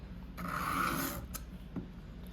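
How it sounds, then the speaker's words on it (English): A knife blade is drawn tip first along a sharpening stone toward the drop point, one long close rasping stroke followed by a couple of brief scrapes in a quiet room. "we're gonna continue on the stone. I need to go up near the drop point."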